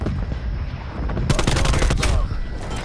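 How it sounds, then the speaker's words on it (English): Gunfire in the video game Call of Duty: Black Ops Cold War, apparently from a pistol, comes as loud, dense volleys of sharp shots fired close by in a busy firefight. "How are you killing me with a pistol?"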